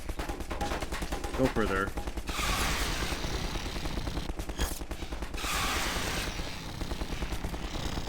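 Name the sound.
turret gunfire in the video game Half-Life 2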